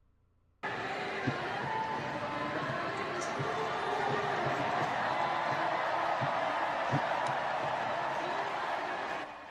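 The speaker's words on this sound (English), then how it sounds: "People cheering, going nuts. Giant crowds." A large convention crowd at the DNC in Chicago cheers and roars steadily after a quiet start, a broad, sustained wash of voices with occasional sharp claps or thumps, a voice faintly audible beneath.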